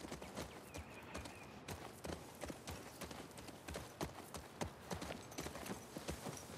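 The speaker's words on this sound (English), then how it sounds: "Man, it would be rough to ride all that way. Two people on one horse." Horse hooves clip-clop steadily at walking pace in The Last of Us Part II, a close, evenly spaced rhythm of hoof strikes over low ambient game background, with no talk.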